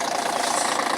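An old coach's diesel engine runs after exhaust work, with the catalytic converter and DPF removed, giving a loud, steady, rough rumble that fills the short moment alone.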